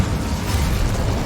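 An Incendio fire spell cast in Hogwarts Legacy, a dense, loud roaring burst of flame that holds steady and full-bodied without a break.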